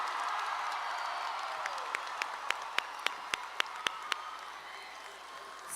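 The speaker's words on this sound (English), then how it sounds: "How about another round of applause for the Conroe High School class of 2023?" A crowd at the Conroe High School class of 2023 graduation ceremony applauds steadily, a dense wash of clapping at moderate distance with a few sharp, louder individual claps standing out near the end.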